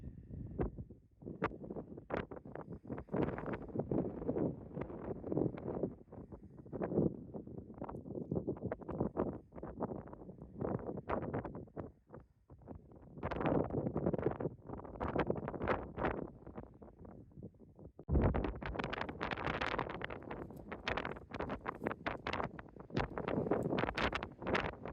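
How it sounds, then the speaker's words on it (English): Strong wind blowing across a dry lake in central Nevada, loud gusty buffeting on the microphone that surges and dips in irregular bursts throughout. "it's a really windy day"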